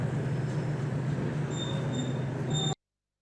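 A passenger train runs steadily with a loud continuous rumble of wheels on rails and faint high squeals, close and unbroken, then cuts off abruptly.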